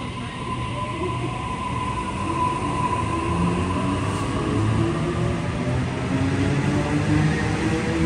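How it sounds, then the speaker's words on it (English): A Sydney train pulls into a station, a steady low rumble of wheels and motors building slightly as it nears, with a faint high squeal over the drone and no voices. "Now, just waiting for a train, which is actually due in 1 minute's time"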